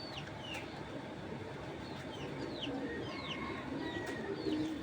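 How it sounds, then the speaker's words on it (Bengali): A female pigeon coos faintly amid a hazy outdoor background, with light chirps from other birds scattered over the steady ambience. "এটা কিন্তু একটা মাদি কবুতর"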